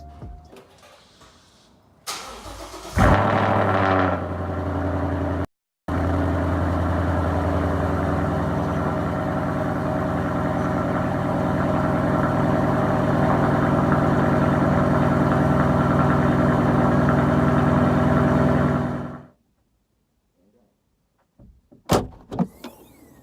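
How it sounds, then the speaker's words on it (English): A Ford car cold starts with a short crank, then settles into a steady idle that runs loud and close for about fifteen seconds before cutting off, followed by a few faint knocks. "let's do a cold start"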